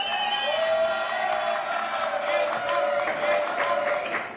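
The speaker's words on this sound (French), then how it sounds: "Applaudissements, s'il vous plaît." Studio audience on a French television talk show cheers and applauds to welcome a festival guest, a steady dense wash of clapping with whoops and crowd voices throughout, fairly close and loud.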